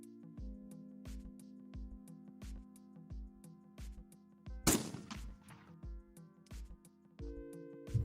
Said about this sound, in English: The gunshot sound.